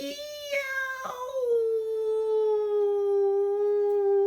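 A storyteller reading a children's picture book aloud imitates a coyote's yipping howl with her voice: a few short yips, then one long, drawn-out howl that slides down in pitch and holds, close and clear.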